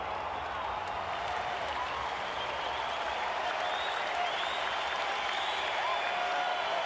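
A large cricket stadium crowd at an IPL match applauds a dot ball, with steady, dense clapping and cheering that fills the whole stretch at a constant level, and no break in it.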